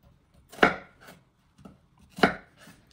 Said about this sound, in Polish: Tu mam 5 cebul już przygotowanych, obranych. Teraz je pokroję.